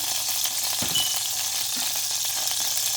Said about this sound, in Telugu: జీలకర్ర, ఆవాలు, కొత్తిమీర, కరివేపాకు ఇవన్నీ వేసుకొని మంచిగా ఫ్రై చేసుకోవాలి